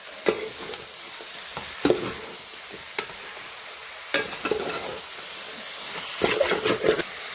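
Onions and tomatoes sautéing in a pan for beef curry: a continuous hissing sizzle broken by several sharp spatula scrapes and stirring knocks, fairly close, with no talking.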